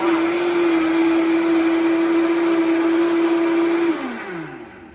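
Vitamix 5200 blender whirring at high speed with dish soap and water inside, a loud steady motor whine that drops in pitch and winds down near the end as it is switched off.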